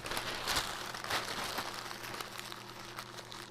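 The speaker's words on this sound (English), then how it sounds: "crumble it up tight into a ball like this" A newspaper page is crumpled tightly into a ball by hand, giving close, continuous crinkling and crackling with a few sharper crunches, fairly quiet, with no talking.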